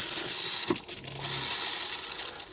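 Water gushes from a faucet in a loud steady hiss, briefly cut off for a moment before flowing strongly again, while winterizing an inboard boat motor.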